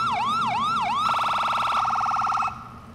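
The original siren on an FBI police car in GTA IV cycles through loud close yelp sweeps, then switches to rapid warbling phaser bursts before dropping away, all over a low engine drone with no speech.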